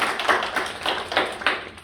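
Applause from a kindergarten audience at a school initiation ceremony: several short bursts of clapping in quick succession, moderately loud and close, with no voices.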